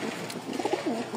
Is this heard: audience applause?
no